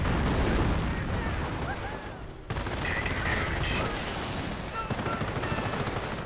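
Dense video game battle noise from a 1v1 World War II–style match: continuous gunfire and distant booms of mortar rounds during an infantry assault, a busy layered barrage with a brief lull midway, no speech.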